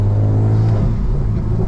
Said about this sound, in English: I just love that intake sound.